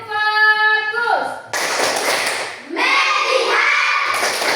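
A class of schoolchildren claps a rhythmic 'focus clap' routine, a quick burst of sharp, closely spaced claps near and loud, coming between spoken chanted lines.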